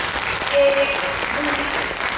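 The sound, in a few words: audience applause for the speakers at a documentary conference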